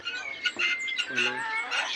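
Chickens and pigeons in a coop chirp and cluck close by, scattered tweets with a few low fowl clucks, a faint voice briefly in the background.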